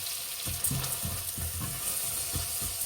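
Brown rice fries in melted butter, giving a soft steady sizzle with several light stirring scrapes, up close.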